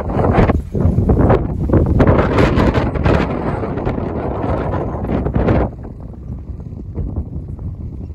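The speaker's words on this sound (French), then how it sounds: "Alors, il y a beaucoup de vent aujourd'hui." Strong wind buffets the microphone in loud, continuous gusts on Andros island in the Cyclades, Greece, easing slightly toward the end.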